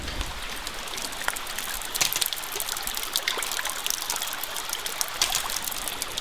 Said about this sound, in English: you'll start getting water out of the end of the hose.